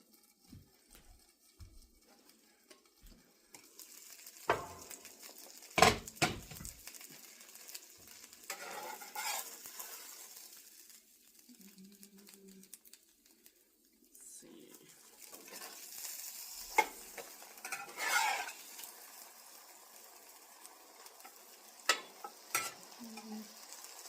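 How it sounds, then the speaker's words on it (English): Grilled cheese sizzling in a pan, a quiet steady fry crackle broken by scraping and clinking of a utensil against the pan, with occasional louder knocks and no voices. "While the grilled cheese is cooking"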